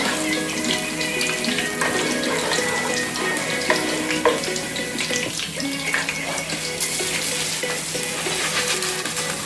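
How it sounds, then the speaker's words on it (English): Washed rice tipped into hot garlic and scallion oil for chicken fried rice, a loud, dense crackling sizzle that continues steadily with rustling stirring throughout, close up and without speech. "The rice is already washed, so I'm going to add the rice in now."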